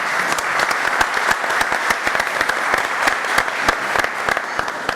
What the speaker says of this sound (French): Vous avez un bon public qui applaudit quand vous ne marquez pas de points.